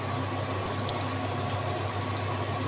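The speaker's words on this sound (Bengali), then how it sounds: "এইভাবে প্রত্যেকটা ভেজে নিতে হবে।" Paneer-stuffed bread sweets deep frying in hot oil, giving a dense, steady bubbling hiss that stays even and continuous throughout.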